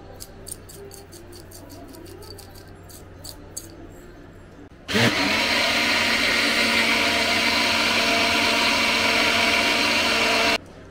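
A kitchen mixer grinder switches on abruptly midway and grinds roasted spices with salt, sugar, black salt and a little water, a loud steady whirring motor that runs then cuts off, after a quieter stretch of faint ticking background.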